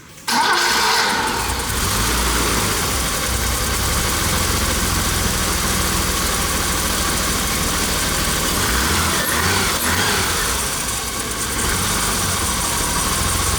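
A BMW E30 with the M40 engine cranks and fires up after a valve adjustment, then settles into a loud, steady idle close by, with no talk.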